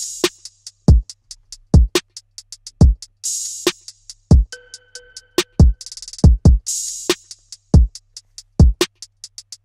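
Trap drum pattern for a beat, with punchy kicks, snappy snares and rapid hi-hat rolls, plus open hats and a crash cymbal at the start, playing loud and steady without vocals.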